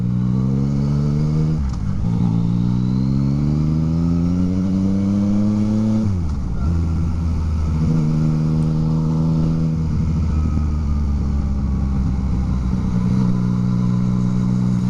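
A Yamaha CP3 motorcycle fitted with a new exhaust rides along, its engine droning loudly and continuously through several rising gear pulls, each broken by a quick shift, with wind noise throughout.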